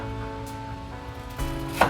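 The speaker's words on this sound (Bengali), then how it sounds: "আদা আর রসুনটা চপড কেটে নিতে হবে" Knife chopping ginger and garlic on a cutting board, a few quick close taps over a steady background hum, ending in a sharper louder chop.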